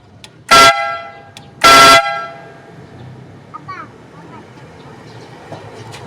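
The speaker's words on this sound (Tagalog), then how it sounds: "Itutok mo sa busina na." A loud car horn is tested with two long, blaring blasts close by, about a second apart, followed by quieter background noise and faint chirpy sounds.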